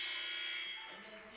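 End-of-third-quarter buzzer at a women's college basketball game, St. Francis (Ill.) vs Trinity International: a loud, steady electronic buzz at the start that fades away over about a second.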